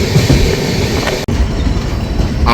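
The 12343 Darjeeling Mail arrives at New Jalpaiguri Junction with a loud, close, broadband rumble of rolling wheels and carriages, broken by a brief clack partway through.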